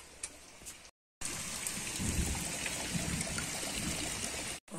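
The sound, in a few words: heavy rain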